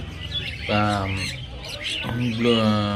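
Blue conure parrots calling at a bird market in Garia, Kolkata, with two loud, close squawking calls separated by a pause, mixed with speech and other bird chatter.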